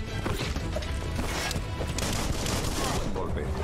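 Rapid, dense bursts of gunfire in the combat video game Biomutant, loud and continuous throughout, mixed with sharp impact thwacks and busy fight noise.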